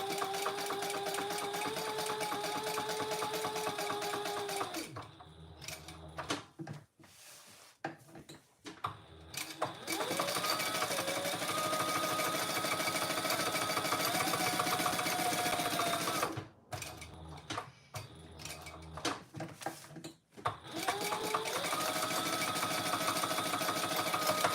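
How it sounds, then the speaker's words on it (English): A sewing machine stitches fabric, running in long steady buzzing stretches and stopping briefly twice before starting again, close and fairly loud with no talking. "And sew it on."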